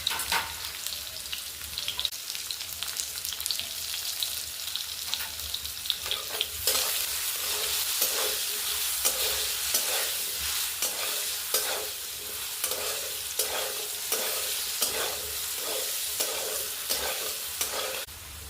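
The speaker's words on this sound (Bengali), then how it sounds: "আলুটা দিয়ে লবণ আর হলুদ দিয়ে অল্প ভেজে নেব।" Potatoes with salt, turmeric and nigella seeds fry in oil in a pan over a clay stove, making a continuous close sizzle under a regular rhythm of spatula scrapes and stirring knocks, with no talk.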